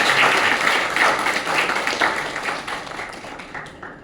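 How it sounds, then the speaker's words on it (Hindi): Enthusiastic applause for newly selected SBI bank assistants at an indoor gathering, a dense crowd clapping loudly and continuously, gradually tapering off over a few seconds. "तो सबसे पहले आप लोग के लिए जोरदार ताली कि आप लोग सेलेक्ट हो गए।"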